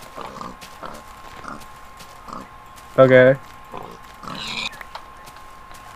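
A pig in the Minecraft video game oinks in a short, loud burst of grunting amid a few quieter game clicks and thuds, with someone speaking briefly nearby.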